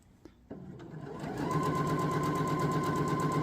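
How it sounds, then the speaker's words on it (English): A sewing machine stitches a shirt, a few soft clicks and handling sounds first, then the motor whirs up into a steady, loud, even run that continues to the end. "Now as you sew, you want to make sure there's not tension pulling against the machine."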